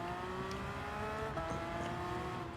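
A race car engine in the video game Gran Turismo hums steadily at high revs, a continuous droning whine with slight pitch shifts and no voices.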